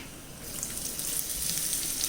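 Steady hiss and crackle of chopped shallots sizzling in hot oil, a continuous bright frying sound with no voices.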